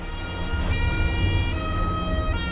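Police car sirens wailing through the city streets of Palermo, several overlapping tones rising and falling at a moderate distance, with a low rumble of traffic underneath and no voices.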